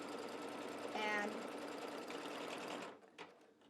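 An embroidery machine fitted with a wing needle stitches rapidly in a steady mechanical chatter, close and continuous, then stops abruptly near the end with a brief clunk.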